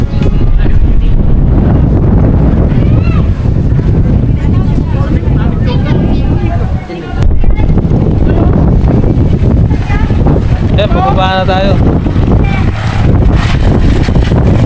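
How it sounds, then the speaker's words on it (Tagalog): Strong wind roars and buffets the microphone throughout, loud and constant, at a crowded hilltop park in Tagaytay City, Philippines, while people talk and shout over it. "Lakas ng hangin."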